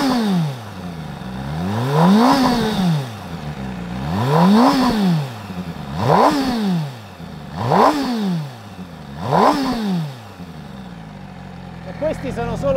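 An MV Agusta Brutale 1000RS motorcycle engine revs repeatedly, five rising-and-falling throttle blips at an even rhythm, loud and close, with the pitch climbing sharply on each rev before dropping back toward idle.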